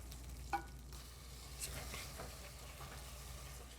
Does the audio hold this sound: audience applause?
no